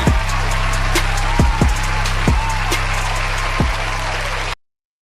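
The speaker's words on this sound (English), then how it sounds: "Give a round of applause." Continuous clapping from a show audience as the host is introduced, even and sustained, with occasional low thuds, ending abruptly.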